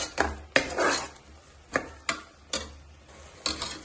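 Masala with coriander powder being fried and stirred in a pan for an egg biryani, a spoon scraping and knocking against the pan in sharp separate clatters every half second or so, close and fairly loud, with no talking.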